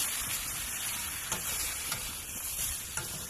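Stingray pieces for a Jaffna-style fish curry sizzle steadily in a hot pan, a dense close frying hiss broken by a few soft knocks and stirs as they are turned.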